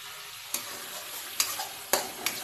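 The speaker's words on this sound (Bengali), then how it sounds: "ভালো করে কষিয়ে নিতে হবে দু থেকে তিন মিনিট ধরে অল্প অল্প জল দেবো আর কষিয়ে নেব" Spice paste sautéed in oil in a pan while preparing a Bengali dhokar dalna, with soft sizzling under several sharp scraping stir strokes spaced irregularly, close and moderately quiet.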